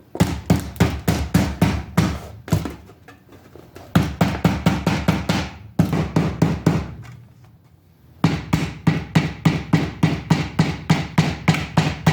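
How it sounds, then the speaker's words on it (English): Rubber hammer blows strike metal in quick, steady bursts, separated by short pauses, close and loud with no talking. "we're going to come back through now with a rubber hammer and just kind of flatten it all down"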